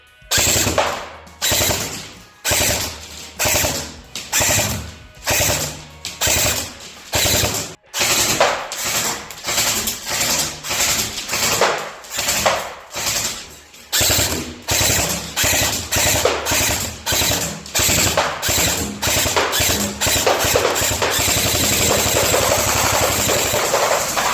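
A Double Bell M16A4 airsoft AEG rifle with an M203 launcher fires on full automatic in repeated rattling bursts, close and loud. The bursts are short and broken by brief gaps at first, then run into longer continuous strings.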